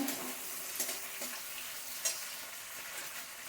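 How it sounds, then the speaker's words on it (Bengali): Prawns fry in a pan for okra and potato curry, a steady close sizzle with scraping stirs that give a few brief sharper clatters, no voices. "চিংড়ি মাছটা দিয়ে নাড়িয়ে নেব।"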